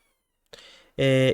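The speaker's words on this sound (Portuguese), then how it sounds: "Gatinho, para de miar." A kitten meows indoors, two short calls in quick succession, the second louder, strongly voiced and close.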